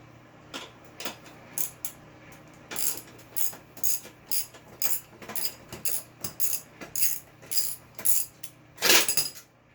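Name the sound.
ratchet removing a bolt from a riding mower deck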